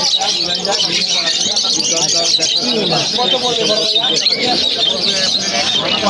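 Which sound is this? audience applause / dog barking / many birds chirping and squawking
many birds chirping and squawking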